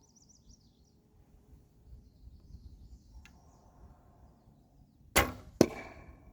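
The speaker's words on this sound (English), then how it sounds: "It means I missed the pad target and it hit the wood frame on the bottom." An arrow from a left-handed 64-inch 40 lb Southwest Archery Spider XL recurve bow strikes the wooden frame of a target with a sharp crack, followed by a second hard knock, after quiet outdoor ambience with faint bird chirps.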